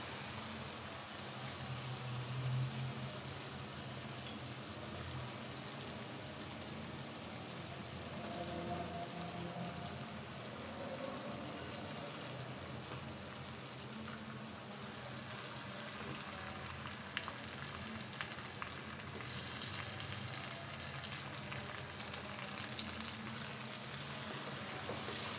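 Chicken sizzling in a pot of cooked-down spice masala, a steady crackling hiss of frying that runs unbroken at moderate loudness, with no talking.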